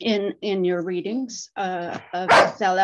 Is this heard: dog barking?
yes